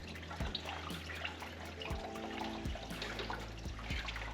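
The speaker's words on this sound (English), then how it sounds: "I will turn the engine, all the fluid can come out." Coolant drains out of a Toyota Celica TA22 engine during cylinder head removal, a close trickling and splashing flow with intermittent drips and small knocks.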